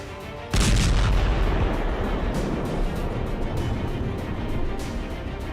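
Rocket fire and heavy bombardment during an airstrike: an abrupt loud blast gives way to a sustained, rumbling roar that stays heavy and dense to the end, with no speech.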